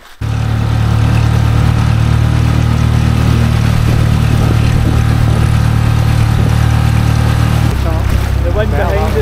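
A dinghy outboard engine running on a loch, a loud, steady, close droning hum that starts abruptly and holds throughout, shifting pitch near the end as voices break in.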